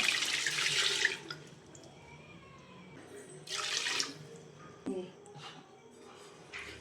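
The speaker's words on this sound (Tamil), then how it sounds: "தேவையான அளவுக்கு தண்ணி ஆட் பண்ணிக்கலாம்" Water runs from a tap into a pressure cooker holding mutton biryani with basmati rice, in a few splashy pouring bursts separated by quieter pauses, fairly close.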